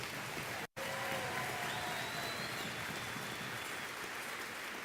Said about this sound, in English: Round of applause for first counselor,